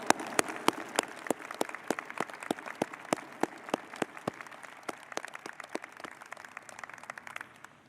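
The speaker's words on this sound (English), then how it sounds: "Candidates, how about a round of applause for your great, great support team sitting in there?" Applause from the audience at a college of business convocation ceremony, a moderate crowd clapping steadily with several loud, close individual claps standing out in a regular rhythm.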